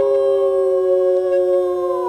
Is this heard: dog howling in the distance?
yes